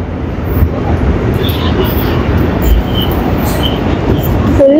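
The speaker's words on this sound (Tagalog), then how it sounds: "Look at the train." Train passing below a high bridge, a loud continuous rumble of wheels and rail noise with faint squeals, steady throughout.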